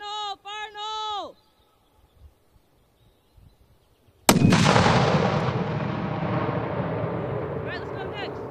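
A military demolition charge goes off during a paratrooper exercise, a single sudden heavy blast after a few seconds of near silence, followed by a long rumbling roar that slowly fades; shouted voices come just before it.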